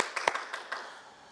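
Congregation applause during a Sunday worship service at a Korean church: a short burst of scattered hand claps, a few sharp claps up front that quickly thin out and fade, with no talking.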